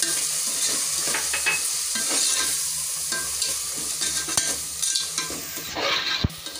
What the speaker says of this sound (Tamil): நல்லா மிக்ஸ் பண்ணுங்க.